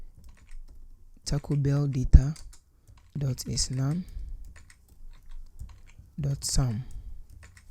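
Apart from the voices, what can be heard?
typing code on a computer keyboard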